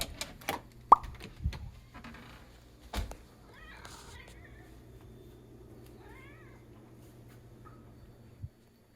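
A house cat lets out a couple of short, faint meows mid-clip, surrounded by several sharp knocks and plops and a low steady hum in an indoor room.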